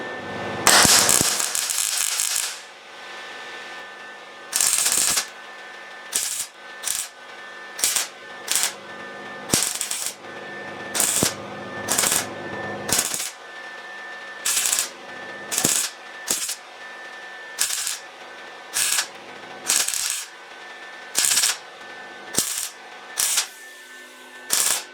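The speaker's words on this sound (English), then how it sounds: "I'm going to continue to go around this and get all these welded in" Welding patch panels onto a rusted car door: a long crackling burst, then a steady series of short, loud, evenly spaced tack-weld zaps separated by brief pauses.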